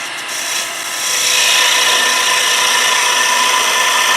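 A wood lathe turning a wooden doorstop, the gouge cutting with its bevel riding the spinning wood, giving a loud steady broadband hiss and whir that swells after the first second and holds, with no talking.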